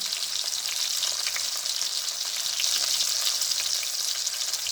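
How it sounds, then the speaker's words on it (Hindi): Tomatoes and spices fry in a pan for a quick matar tamatar dish, a loud, close, continuous crackling sizzle with fine spattering and light stirring, and no voices. "टमाटर को हम अच्छी तरह भून लेंगे।"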